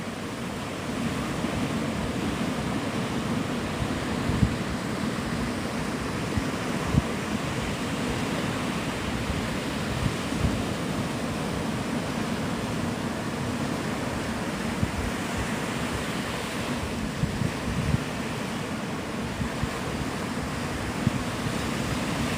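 Ocean surf rolls onto the beach at Navarre Beach, Florida, a steady broad wash of waves with gentle swells and some wind noise, continuous and unbroken by talk.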